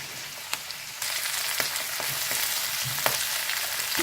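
Potatoes sautéing in a pan for pirandai thuvaiyal, a steady crackling sizzle that swells louder after the first second, with scattered spatula taps and stirring clicks throughout.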